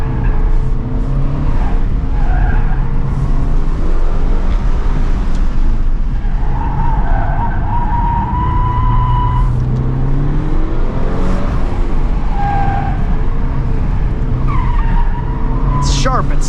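A front-wheel-drive hot hatch accelerates hard and corners, its engine revving through the gears while tires chirp and squeal repeatedly, loud and close from inside the car.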